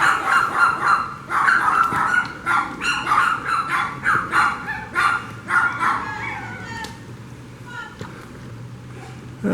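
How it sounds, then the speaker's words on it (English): Several dogs barking outdoors in the mountains near Eliza Brook, a loud burst of repeated barks and yips that thins out and fades toward the end, with some whimpering mixed in. "she finally called the dogs in"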